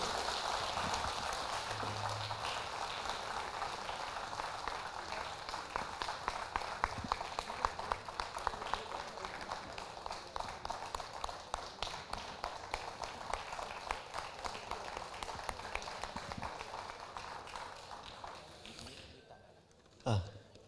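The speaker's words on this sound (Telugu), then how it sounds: "గట్టిగా చప్పట్లు కొట్టాలి మీరు అందరూ ప్లీజ్" An audience at a foundation launch program applauds steadily for nearly twenty seconds, a dense, even patter of many hands heard from within the hall, fading out near the end.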